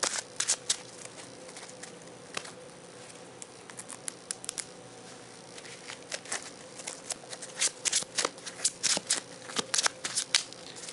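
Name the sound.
shuffling a deck of trading cards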